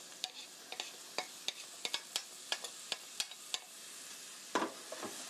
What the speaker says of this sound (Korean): 양파와 베이컨이 노릇노릇해질 때까지 볶아주세요.